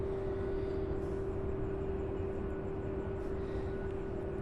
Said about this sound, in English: Next up, an A306 out of Bangor, Maine. This is UPS flight